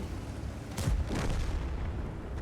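Tank gun fire and incoming burning damage in a tank video game featuring Chinese heavy tanks, heard as a loud boom with a short burst of impacts over continuous rumbling engine noise, no talk.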